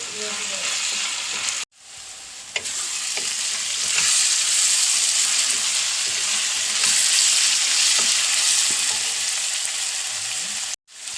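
Green chillies and curry leaves frying in hot oil for chicken curry, a loud steady close sizzle that swells and holds for about nine seconds, with faint stirring clinks and brief breaks at the start and end.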